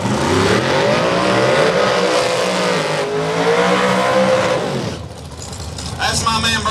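A big-cubic-inch, nitrous-assisted Mopar Road Runner drag racing on asphalt, with a loud, sustained engine roar that holds for about five seconds before dropping, then rising again as announcer-style talk runs over it.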